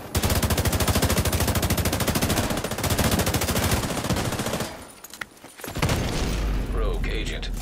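Rapid automatic gunfire in a PvP match of The Division 2, sustained bursts for several seconds, then a short lull and more shots, with speech over parts of it.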